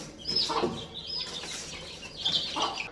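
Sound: hen clucking

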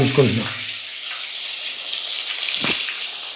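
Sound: onions, green chillies, fenugreek and cumin frying in oil

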